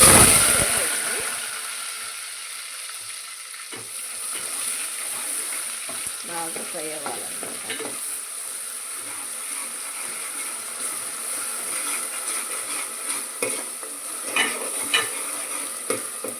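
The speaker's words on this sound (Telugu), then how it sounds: "బాగా ఫ్రై చేయండి బ్రౌన్ కలర్ వచ్చే వరకు" Onion paste and a bay leaf frying in a pan for goat head curry, a steady broadband sizzle with scattered scraping stirs throughout, moderately loud and close.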